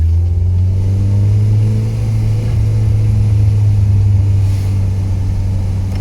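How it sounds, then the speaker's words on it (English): A turbocharged VW Mk1 Golf runs under acceleration, its engine a loud, steady low drone with a deep rumbling tone that holds close and continuous, with no voices. "We're about to take some pulls in the car and take a couple of rollers."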